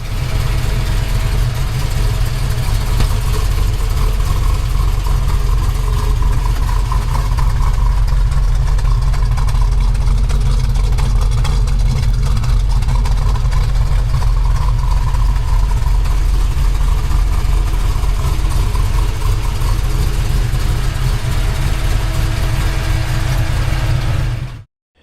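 A 1969 Plymouth Barracuda with a 360 engine, headers and dual exhaust idles steadily, a loud, even low rumble holding unchanged for about 25 seconds before cutting off.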